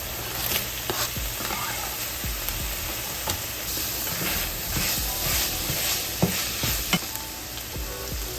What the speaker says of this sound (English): Browning up my Italian sausage.